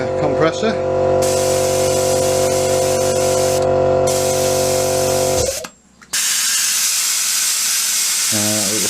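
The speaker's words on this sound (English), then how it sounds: "Oh, there goes the compressor." An airbrush air compressor runs with a steady low hum beneath the loud hiss of spraying, both cutting out abruptly before a softer airy hiss returns and a voice speaks briefly near the end.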